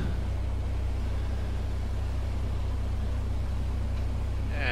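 A Piper PA-28-180 engine idles in the A2A Simulations flight simulator at a high-altitude field, a steady, loud, low droning hum that holds without a break.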